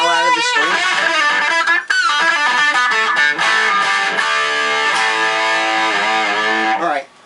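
A Red Special-style electric guitar plays with crunchy overdriven tone, strings bent hard so notes bend and slide in pitch, loud and continuous with brief gaps between phrases.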